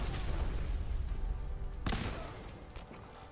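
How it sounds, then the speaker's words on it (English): Grenade explosions in the Fallout 4 Far Harbor video game, thrown back and forth with an enemy in power armor: a dense, rumbling blast with a sharp burst midway, then a slowly fading roar. "I will throw grenades back"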